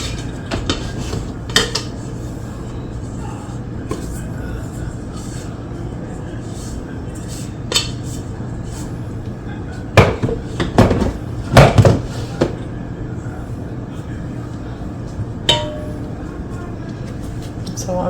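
Dough being shaped into a ball in a mixing bowl, with soft thumps and scattered clinks of the bowl under a steady room hum, a cluster of louder knocks near the middle, and some talking.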